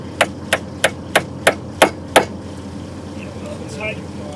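Seven sharp, evenly spaced hammer blows striking metal while tightening a chain on farm equipment during hay cutting, loud and close, followed by quieter background noise with a brief faint squeak.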